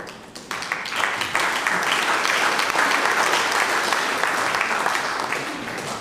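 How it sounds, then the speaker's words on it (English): A church congregation at a Sunday morning service breaks into loud, sustained applause after the sermon, dense clapping that swells quickly and holds steady for several seconds. "clapping after the sermon is really not necessary"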